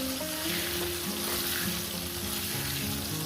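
Cardamom, cinnamon and cloves crackle and sizzle in hot frying oil, a dense, loud, continuous fry close by with a faint hum underneath.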